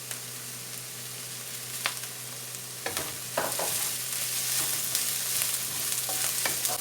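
Curry leaves and onions fry in tempering oil for a bitter gourd and egg pulusu curry, with a steady close sizzle and scattered clinks and scrapes of stirring.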